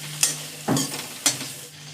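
Brinjal and dried shrimp fry in a pan, a steady close sizzle broken by three sharp scraping strokes of a spatula stirring the pieces, with no voices.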